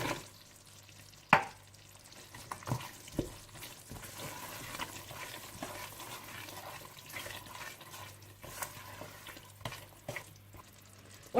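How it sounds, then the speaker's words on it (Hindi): Lemon slices and dry fruit are stirred into melted sugar syrup in a pan for mutanjan, with soft scraping and bubbling, a few sharp spoon knocks against the pot and a steady low sizzle throughout. "जब चीनी मेल्ट हो जाए और शीरा सा बन जाए तो आप इसमें लेमन स्लाइसिस और ड्राई फ्रूट डालकर मिला दीजिए।"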